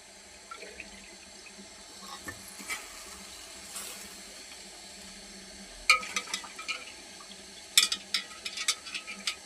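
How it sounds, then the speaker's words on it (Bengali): Chicken pieces coated in packet spice mix fry in a pan for a Bengali chicken roast, giving a steady low sizzle, then sharp scrapes and clatter of stirring in the second half, with no talk. "মুরগিগুলি দিয়ে আমি ভালো করে কষাই নেব।"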